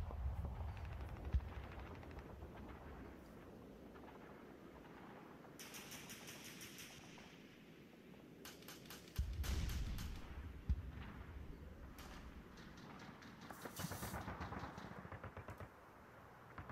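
Machine gun fire in a computer wargame of Advanced Squad Leader, a unit in a foxhole firing in repeated rattling bursts and volleys at a moderate, steady level, with no talk.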